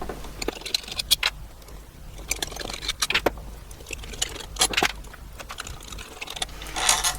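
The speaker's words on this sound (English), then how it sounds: "And so now we take the screws out." Screws being backed out of the end caps of an electric motor during disassembly, giving scattered small metallic clicks, scrapes and jangles in close, irregular bursts with quiet pauses between them.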